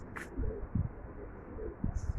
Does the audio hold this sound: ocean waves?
no